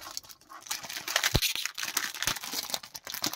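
Plastic and cardboard packaging of a Street Fighter Ichiban Kuji lot E logo figure being opened, with close, busy crinkling, crumpling and tearing sounds in uneven bursts and a few sharp clicks along the way.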